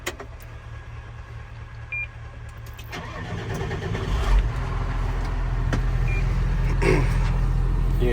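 John Deere tractor engine cranking and firing up, a low diesel rumble building and settling into a steady idle, fairly quiet and close, with no talking.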